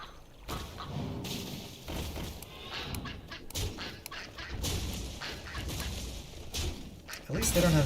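A duck squawks in a hunting game, loud nasal quacks and honks recurring in irregular bursts over a busy mix of other game noise.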